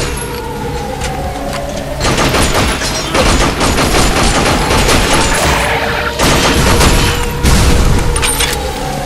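Heavy energy weapon fired repeatedly in the sci-fi shooter Binary Domain, a loud, dense barrage of blasts and booming bursts across the whole stretch with brief lulls between volleys.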